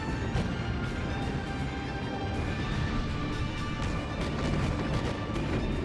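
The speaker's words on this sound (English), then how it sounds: "Smaller guns are automatically shooting" Warship secondary guns in World of Warships firing on their own aboard a Kongou-class battleship, a steady dense barrage of muffled booms and crashes over continuous engine and sea rumble, with no voices.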